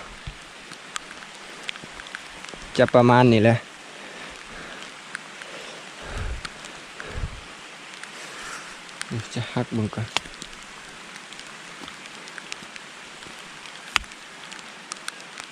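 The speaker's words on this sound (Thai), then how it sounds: "ฝนก็ตกนะพี่น้อง" Rain falls steadily outdoors during a trip to dig wild yams, a soft constant hiss running underneath short bursts of someone talking.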